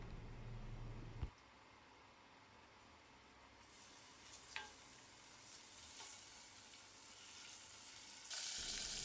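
Two tablespoons of butter melt in a pan with a faint, steady sizzle and soft hiss, quiet and close, with a few small clicks and the sizzle growing brighter near the end.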